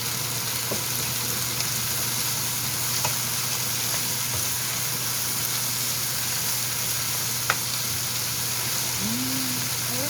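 Red and yellow bell peppers stir-fried with salt in a pan for a rosé pasta give a constant, close hiss of frying, broken by a few faint clicks from the spatula, with no voices.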